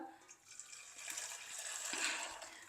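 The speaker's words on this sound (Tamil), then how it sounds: "நான் இந்த பாலை வந்து இப்போ வடிகட்டுறேன்" Milk being poured through a strainer, boiled and cooled for making curd, gives a soft, steady liquid trickle. It builds slightly over a couple of seconds, is faint and close, and has no talk over it.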